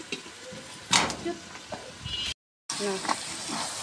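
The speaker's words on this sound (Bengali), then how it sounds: "সুন্দর করে আমি কষে নিচ্ছি" Chicken skin sizzles in oil as it is sautéed down for a bhuna, a close, crackling frying hiss with a sharp spike near the start and a brief dropout, under faint intermittent voice sounds.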